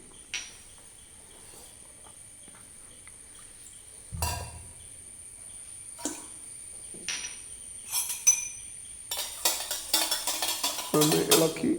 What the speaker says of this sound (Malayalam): ഒന്ന് ഇളക്കി എടുക്കുകയാണ്